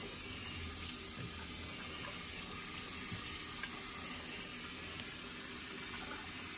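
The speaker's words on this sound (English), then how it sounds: "And now I'm about to wash off my face." Tap water runs steadily into a sink while someone rinses Noxzema face cream off their face, a constant close hiss and splash with small bumps of handling and no talking.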